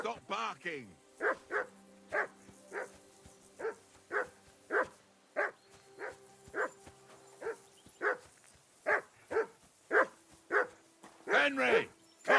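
Repeated dog barking in the video game Kingdom Come Deliverance II, a steady string of evenly timed barks with a few quicker doubled yips, and a voice briefly speaking at the start and end.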